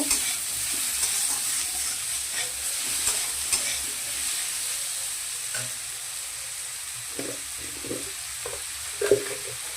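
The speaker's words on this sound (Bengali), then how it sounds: "ভালো করে নাড়াচাড়া করে নিব।" Salted mourola fish sour curry with raw mango being stirred in a pan, a steady soft sizzle with occasional scraping strokes of the spoon throughout.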